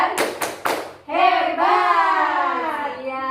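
A group performs the rhythmic "tepuk hebat" clap routine at a training session in Yogyakarta: three sharp unison claps, then voices chanting together in a sustained call.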